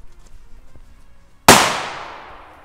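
A single loud blast from a Pirátek firecracker cuts through quiet background noise, followed by a long fading rumble as the echo dies away.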